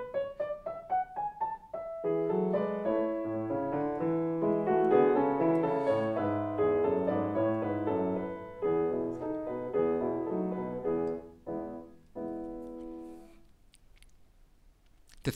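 Solo piano plays a passage from Beethoven's Piano Sonata No. 2, Op. 2/2, opening with quick rising notes, then fuller chords and running figures at moderate volume, ending with fading sparse notes.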